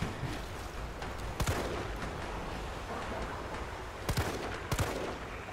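Sharp gunshots hit a monster's eyes in Resident Evil 3 Remake: a few loud, isolated cracks spaced seconds apart, then a quick pair near the end. They sound close over a rumbling game background, with no talking.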